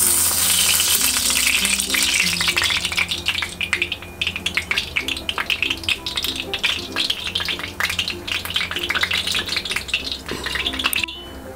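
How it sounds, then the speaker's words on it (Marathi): Cooking oil poured onto a hot tava set up for frying pomfret, giving a continuous crackling sizzle with scattered pops and light metallic rattles, loud and close throughout. "त्यासाठी मी तिथे तव्यात आता तेल ओतते"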